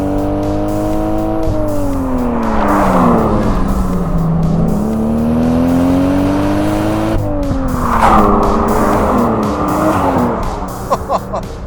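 A 1994 Toyota Supra's 2JZ-GTE sequential twin-turbo engine revs loudly and close, pitch climbing and dipping through two strong pulls with gear-change drops, the harsh exhaust note and tire noise dominating throughout.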